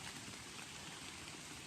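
Rain falling steadily in the woods during a deer-hunting trip, a faint, even hiss of drops with one small patter near the end and no voices.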